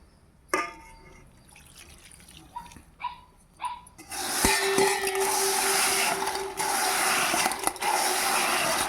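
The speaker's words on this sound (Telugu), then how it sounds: "ఇప్పుడు ఇందులోనే 1 గ్లాసు వాటర్ అయితే పోయాలి" A glass of water poured into pounded jaggery in a kitchen pot, a steady liquid splash and gush filling the second half after a few isolated knocks and a dog's barks earlier.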